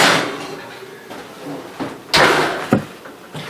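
An oven door bangs shut in a home kitchen after two pans of gnocchi go onto the top and bottom shelves, with a couple of sharp knocks and clatters over faint room noise.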